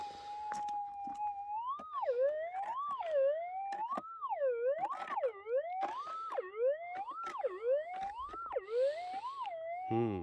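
Over bedrock during gold prospecting, a metal detector sounds a warbling electronic tone that rises and falls repeatedly as the coil sweeps back and forth over the target. The tone is clear and continuous, with a few clicks and no talk.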